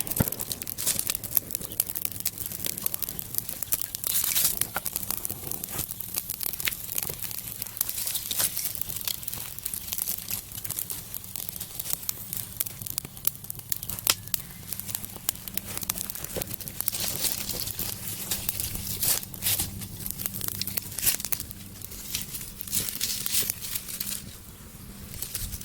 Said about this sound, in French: Tu vois, les feuilles, ça prend bien.